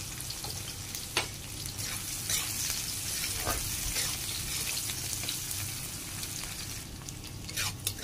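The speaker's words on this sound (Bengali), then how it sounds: "পেঁয়াজ কুচিটা এবার দেখো অনেকটা ভাজা হয়ে গেছে।" Chopped onions and cumin seeds fry in hot oil for a fish curry with elephant foot yam, a steady loud sizzle with a few sharp stirring clicks and taps throughout, no voices.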